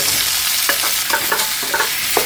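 Eggplant stir-frying and being stirred in a hot pan, with a steady hiss and occasional scraping clicks from the utensil.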